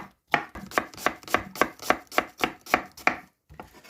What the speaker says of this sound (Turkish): Soğanları mümkün olduğunca küçük doğrayacağım.